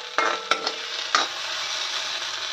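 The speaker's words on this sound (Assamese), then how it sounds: "এইফালে ভাত কেৰেলাৰ ভাজি বনাইছোঁ মই।" Sliced bitter gourd frying in a pan: a bright, continuous sizzle up close, with three or four quick spatula scrapes and taps at the start.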